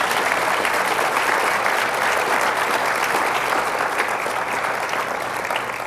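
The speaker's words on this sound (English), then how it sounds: "let's give them a round of applause" A high school forum audience gives the panelists a round of applause, loud dense clapping that holds steady for several seconds with no talk.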